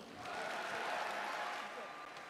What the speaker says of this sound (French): Je vous prie d'accueillir Thomas Morel, journaliste à Valeurs Actuelles, et Jason Miller, sous vos applaudissements.